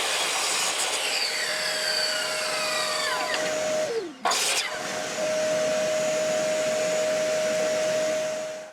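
A power saw cuts a piece of wood to size, running as a steady loud whine with a falling pitch sweep during the cut, a brief dip near the middle, then a constant tone until it spins down at the end.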